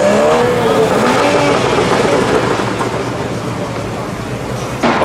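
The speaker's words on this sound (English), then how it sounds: "We've got a nice Audi here, making some noise." An Audi RS rumbles loudly past at a crowded London Boxing Day car meet, its engine and exhaust roaring continuously amid dense crowd noise and background traffic.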